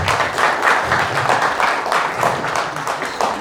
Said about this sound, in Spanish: Un aplauso para Álvaro, por favor.